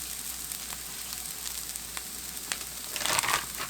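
Partly frozen ground beef sizzling and crackling in a hot frying pan, a steady close hiss with a burst of louder spitting near the end, no voices.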